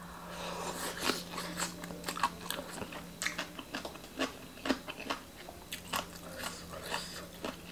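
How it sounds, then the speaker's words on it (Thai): Close, crunchy bites and chewing of khanom jeen with fermented fish papaya salad, fresh shrimp and raw vegetables, irregular snaps and crunches with quieter mastication between them. "แล้วก็เสียงกินเนี่ย"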